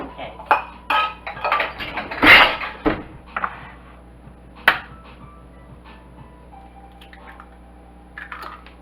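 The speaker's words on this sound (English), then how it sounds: "I'm going to add in 2 eggs." Eggs cracked against a bowl and dropped in for a caramel apple cake, a quick run of sharp taps and clinks with a louder knock partway through, then quieter handling.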